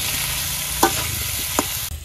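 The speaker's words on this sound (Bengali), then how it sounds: "একটু লবণ দিয়ে দিলাম, সুন্দর করে লাড়াচাড়া করে ভাজতে নেই।" Ridge gourd and potato pieces with salt stir-frying in a village kitchen pan, giving a dense close sizzle with two distinct spatula scrapes before it cuts off abruptly, no speech.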